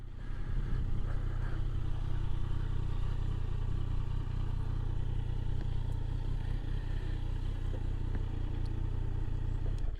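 A motorcycle ridden along Highway 1 toward Santa Cruz on a foggy day, its engine giving a constant low, close drone under wind rush before being parked behind a car; no voices.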